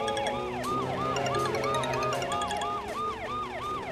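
Police car siren wailing in a steady, repeating rise-and-fall cycle, loud and close, with an undercurrent of background noise and no voices.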